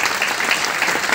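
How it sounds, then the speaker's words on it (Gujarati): Steady, loud audience applause at a Gujarati business presentation about the Vestige company, a dense continuous wash of many hands clapping together with no break. "તો તમારે એકવાર જોરદાર તાળીઓ થઈ જાય."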